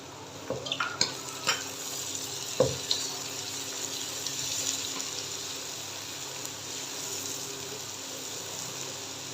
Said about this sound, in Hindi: मटर को 2 मिनट फ्राई करने के बाद शिमला मिर्च ऐड कर देंगे।